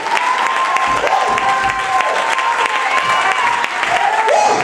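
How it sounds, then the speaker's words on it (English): A church congregation claps their hands in praise at a Sunday service, loud and sustained clapping with scattered cheers and voices calling out over it. "Put your hands together and give our God praise."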